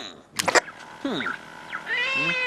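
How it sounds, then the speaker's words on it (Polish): A cat meows from inside a wall on a building site, with several short, clear meows and a drawn-out, wavering cry, fairly close and alone against quiet surroundings. "W tej ścianie słychać miauczenie, może tam być kot!"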